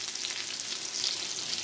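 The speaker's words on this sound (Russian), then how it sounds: "Котлеты жарятся на двух сковородках." Meat cutlets sizzle steadily in two frying pans in a home kitchen, a dense continuous crackle with no voices over it.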